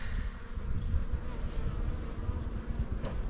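Honeybees hum in a dense, continuous drone close by during a hive inspection, steady and loud with no talking.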